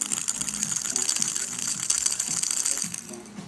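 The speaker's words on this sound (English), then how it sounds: "Just put that in there. Just swirl this around for" Small metal bicycle hub parts rattle and clink against each other inside a glass jar of gasoline as it is swirled, a continuous close jangling without speech.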